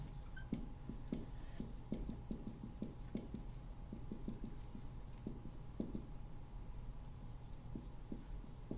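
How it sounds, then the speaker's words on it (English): A pen or pencil writes lesson notes on atomic theory, a quiet series of short scratchy strokes in an irregular rhythm over faint room hum. "So we'll write that down."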